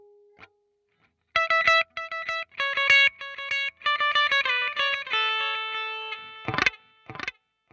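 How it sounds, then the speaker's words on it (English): Electric guitar played through a delay setting on an effects unit after the reverb is switched off: a short run of picked notes and chords, each trailing off into repeating echoes, loud and close with no talking. "Let's turn the reverb off and put the delay on"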